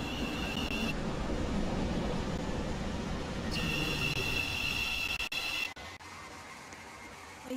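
Train pulling into a station platform at Leighton City, with a steady rumble and a high wheel squeal that cuts in and out, followed by clanks as it slows.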